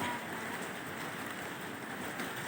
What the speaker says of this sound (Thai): วันนี้ ฝนตกพายุเข้าทั่ว กรุงเทพเลยมั้งเนี่ย